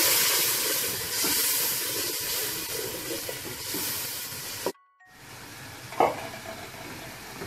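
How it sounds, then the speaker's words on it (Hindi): Spices frying in a pan for Lahori white chickpea curry sizzle with a broad, steady hiss, then a brief cut before a quieter, softer sizzle continues after water is added; no voices. "थोड़ा सा पानी ऐड कर देंगे ताकि मसाले गले ना।"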